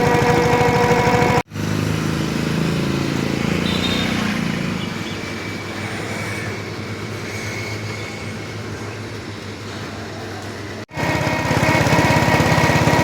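A tractor's diesel engine drones loud and continuous while driving on a village trip in Tamil Nadu. The steady rumble is briefly cut twice by abrupt breaks, with no voices over it.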